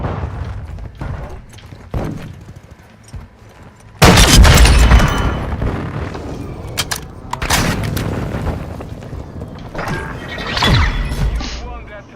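Airstrike explosions in a Call of Duty Search and Destroy match: a sudden heavy boom opens a run of loud, close blasts and crashing debris, with scattered gunfire and further detonations rumbling on behind.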